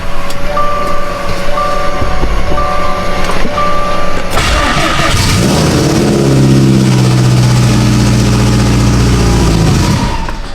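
A Subaru WRX STI engine idles cold while warming up, a steady loud rumble under intermittent electronic chimes at first, then a deeper, rougher note as revs settle after about four seconds.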